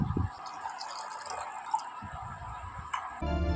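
Water is poured over a Shiva lingam in a temple, giving a soft, steady trickle and splash close by, with faint background murmur and a brief louder clatter near the end.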